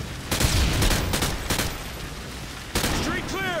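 Gunfire in a video game shooter, bursts of automatic shots with a few sharp reports over dense battle noise, a voice briefly audible near the end.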